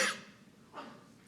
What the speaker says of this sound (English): you must forgive me for coughing